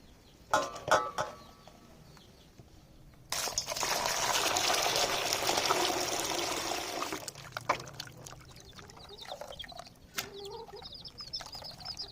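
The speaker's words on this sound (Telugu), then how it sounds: "దీన్ని చల్లటి నీళ్ళ లేచి మంచిగా నీట్గా ఒక నాలుగైదు సార్లు కడుక్కుందాం" Water pours and splashes for several seconds as goat tripe is rinsed in cold water, amid light clinks and handling noises, with no talking.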